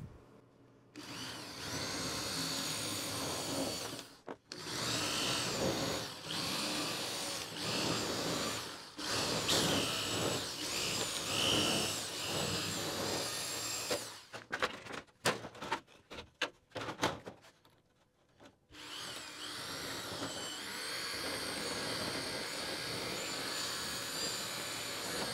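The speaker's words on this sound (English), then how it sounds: "Use my handy shears." Shears cut through greenhouse covering material in a long, loud, harsh whine that runs steadily for several seconds at a time, broken by short pauses and a choppy stretch of quick cuts, with no talking.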